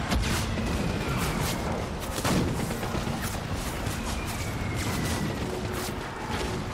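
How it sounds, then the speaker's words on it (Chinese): Heavy, continuous bombardment fills the Death Stranding game scene with dense rumbling booms and blasts for nearly seven seconds, loud and without a break. "我们如果待在一个地方，他就会一直打到，一直轰炸我们。"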